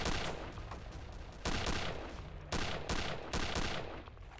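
Loud bursts of gunfire in Return to Castle Wolfenstein, several heavy shots in close succession with short gaps, each a sharp blast with a rumbling tail, no talking.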